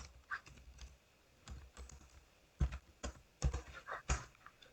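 Typing on a computer keyboard into an HTML form input box: irregular bursts of close, crisp key clicks with short pauses in between.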